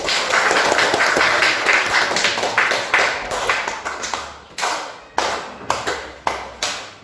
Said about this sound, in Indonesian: beri tepuk tangan untuk Panis